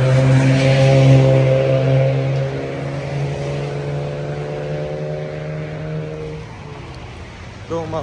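Road traffic on a street about to be crossed, a loud steady engine drone with a low hum that fades somewhat partway through, with a short rattle near the end.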